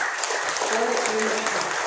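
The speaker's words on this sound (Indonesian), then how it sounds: "Boleh tepuk tangan sebentar? Tapi yang keras, ini yang keras." Audience clapping at a health talk after a call for loud applause, a dense steady patter of hands throughout, with faint tonal voices mixed in underneath.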